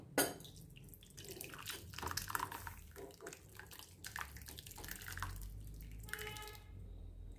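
Liquid poured into a pot of mango lentil dal splashes and trickles close by in an uneven stream, ending with a few drips.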